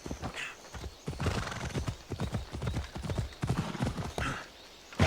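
Horses gallop in the Assassin's Creed Odyssey video game, with a close, rapid clip-clop of hooves running throughout and a brief whinny near the start.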